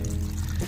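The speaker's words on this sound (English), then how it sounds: "Pour some more water in here." Water pours into a Crock-Pot of gumbo in a brief, close, continuous splashing gush that fades at the end, with no talking.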